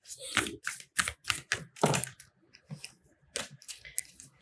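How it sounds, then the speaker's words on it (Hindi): Tarot cards being shuffled by hand, giving a run of quick, crisp riffling bursts in an irregular rhythm, close and fairly loud with no talking. "One more shuffle. No, one more shuffle."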